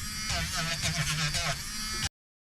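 A mini Dremel spins against bass guitar frets while polishing them with Semichrome, giving a steady close electric buzz for about two seconds that cuts off abruptly, with a voice talking over it.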